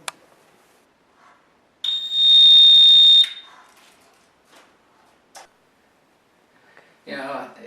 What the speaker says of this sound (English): You know, Connie, I gotta hook up the install alarm so I can check the continuity